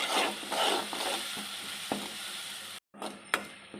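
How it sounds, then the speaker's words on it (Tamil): Ground green chili, coriander and ginger paste sautéing in a pan, giving a steady close sizzle with stirring scrapes and a brief break near the end. "பச்சை மிளகா கொத்தமல்லி இஞ்சி அரைச்சி வச்சது போட்டு வதக்கணும்"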